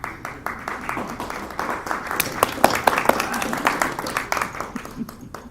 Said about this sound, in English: Presume that was a round of applause for all.